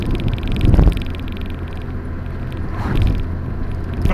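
An MG ZR 160 drives over asphalt, a loud, constant rumble of tyre and road noise with a couple of heavier thumps as the wheels pass over bumps.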